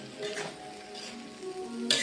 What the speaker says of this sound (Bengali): তো লবণ দিয়ে হালকা কিছুক্ষণ ভাজবো